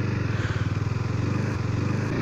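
A 2017 KTM RC 390 single-cylinder motorcycle idles and blips with a throaty exhaust note, a steady low pulsing thump close by with slight revving swells, no talk.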